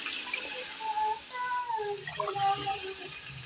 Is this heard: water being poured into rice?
yes